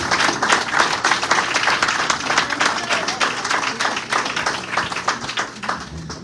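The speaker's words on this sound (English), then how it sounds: "give him a round of applause for coming here in person and being here with us" An audience at a congressional candidate forum hosted by NAACP branches claps steadily for several seconds, a dense, fairly close wash of hand claps with a faint voice or two underneath.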